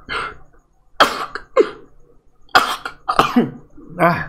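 Characters in the video game Oxygen Not Included cough or sneeze in several loud, abrupt bursts, spaced irregularly and close up, mixed with a brief spoken exclamation.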